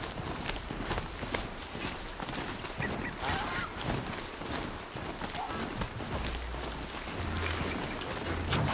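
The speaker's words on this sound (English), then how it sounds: "There's geese somewhere. Hear 'em." Geese honking in the video game Horizon Zero Dawn, repeated honks over a busy layer of footsteps and game ambience with a low hum, fairly steady and moderately loud.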